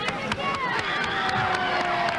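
A large crowd in a hotel ballroom cheers and shouts in old archival footage, a dense roar of voices with sharp bursts and calls rising over it.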